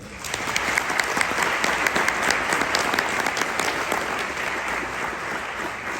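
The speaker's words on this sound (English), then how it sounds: "I ask us to all give a huge round of applause for all the organizers of this great event" An audience at an Atlanta Eagle Scouts event gives a round of applause for the organizers, dense clapping rising quickly and holding loud and steady for several seconds before easing slightly.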